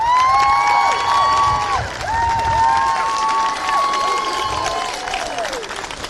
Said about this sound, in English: So give yourselves a round of applause as supporters for these two teams.